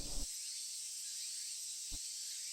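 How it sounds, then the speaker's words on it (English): Steady high-pitched cicada drone in Tsukihime, a continuous shimmering buzz of many insects on a hot summer day, with a few faint low thumps breaking through. "The cries of the cicadas."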